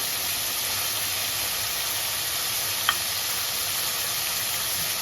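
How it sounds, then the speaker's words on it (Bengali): Prawns fry and get stirred in a wok of hot oil, a steady hissing sizzle held at an even level throughout, broken by a single sharp tap of a utensil midway. "চিংড়ি মাছটা দেওয়ার সঙ্গে সঙ্গে আমি নেড়ে নেবো"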